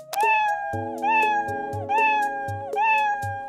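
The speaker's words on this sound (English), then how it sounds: "representing how many times Scratch should meow" A cat meows four times in a regular rhythm, each meow loud and clear, the same call repeated like a looped effect.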